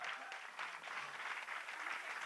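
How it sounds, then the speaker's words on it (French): Spectators at a closing ceremony applaud, an even, continuous patter of many hands clapping that sounds somewhat distant and soft, lasting the whole moment without talk. "on va plus l'applaudir, viens Paul Doucet"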